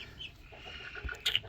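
Black Australorp chickens cluck softly in a coop, a few low murmuring clucks and one brief sharper call near the end, fairly faint and close.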